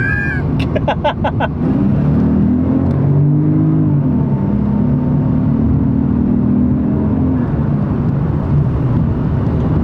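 A turbocharged 2JZ-GTE engine in a Lexus GS 300 drones steadily and builds under acceleration, with turbo lag, a low humming rise with road and wind noise throughout, after a few brief clicks at the start.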